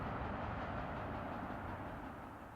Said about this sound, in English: NSC 40-9 8770 and SD60M 6768 pulling the train through Dauphin on the final leg of their journey down the Susquehanna River